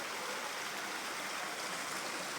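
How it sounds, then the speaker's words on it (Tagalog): A small stream flows outdoors in the Philippines as a steady, faint broadband rush of water, continuous and even, with no voices. "napakaganda ng sapang ito"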